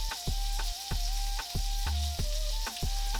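A Wagyu ribeye steak rubbed with rosemary sizzles steadily in a hot pan, a loud continuous frying hiss broken by a few sharp knocks and clicks at regular intervals.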